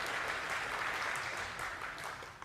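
A lecture audience breaks into sustained applause during a science presentation, a dense, even wash of many hands clapping at a steady level, somewhat distant and alone.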